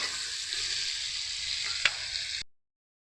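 Salted tomatoes fry in a pan for an aloo omelette, softening under an even, close hiss with one sharp clink of a utensil before the sound cuts off abruptly.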